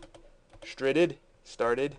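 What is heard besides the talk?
typing on a computer keyboard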